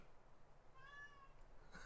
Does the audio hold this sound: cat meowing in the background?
yes